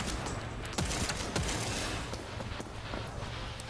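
Gunfire in the video game The First Descendant, rapid bursts of shots with sharp cracks over a dense rumbling bed, fairly loud, with the firing sound stuttering and skipping unevenly.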